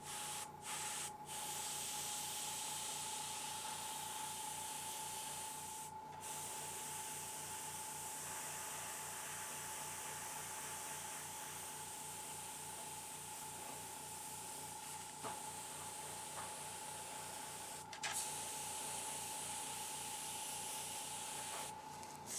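Spray paint mists onto a Predator model head in a steady, continuous hiss, with a constant tonal hum underneath and a few brief clicks and bursts interrupting the flow.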